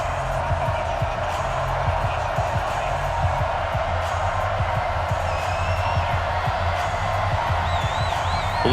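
A stadium crowd roars steadily in Madden NFL 20 before a Seattle Seahawks vs Los Angeles Rams game, a dense, continuous wash of cheering with occasional whistles rising above it.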